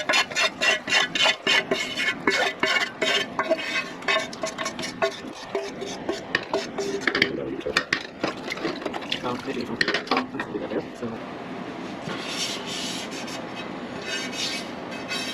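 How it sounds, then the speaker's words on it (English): A rubber spatula scrapes rhythmically against a pot or bowl while gumbo ingredients are cleared out, producing a long run of quick, close rasping strokes that continues for several seconds before easing into softer scraping. "this is where we'll use a rubber spatula to get every last drop of that."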